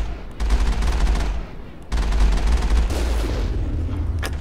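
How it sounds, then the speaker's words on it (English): Rapid gunfire from a vehicle in the video game Mass Effect, dense bursts of shots with a brief pause, loud and close, with faint speech underneath. "Sniping from my vehicle here."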